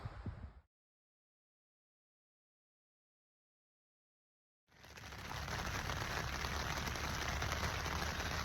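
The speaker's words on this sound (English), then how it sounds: "It's raining outside" Rain falling on a tent at a campground on the Colorado Trail, a brief burst of sound, then silence, then a steady, dense patter of drops that continues evenly to the end.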